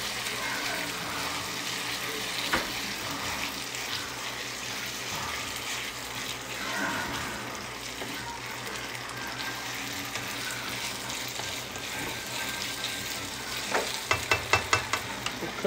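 Chicken and soy sauce stirred in a pan, a steady close sizzle with the scrape and clatter of a spoon, a few sharper knocks near the end.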